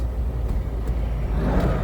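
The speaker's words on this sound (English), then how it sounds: "Is that a beet truck?" A dump truck hauling sugar beets during harvest drives past with a steady, loud engine rumble and road roar, heard up close from a passing vehicle.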